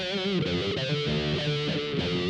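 A distorted electric guitar plays a short riff of sustained chords through a Boss GT-100 spring reverb effect, splashy and echoing, lingering between notes.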